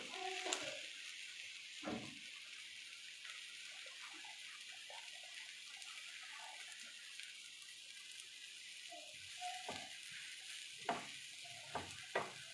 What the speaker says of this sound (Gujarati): અને અમે અમૂલ બટરમાં શેક્યું છે